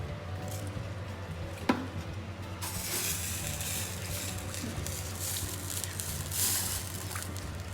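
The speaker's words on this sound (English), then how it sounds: "That sizzling is not in the pan, that's the water underneath." Water sizzling underneath a heating pan while making strawberry lemonade syrup, a soft continuous hiss with a single sharp click, quiet and steady.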